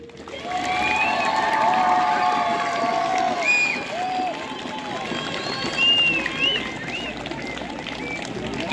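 An audience at a school sports week opening ceremony claps and cheers in a sustained wash of applause, with an announcer's voice talking over it throughout.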